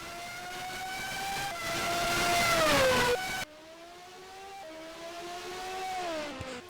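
A 1992 Lotus Formula One car leaving the garage in a racing game: high engine whine rising in pitch, then a sudden drop to a quieter, steadier drone with shifting revs, alone without voices.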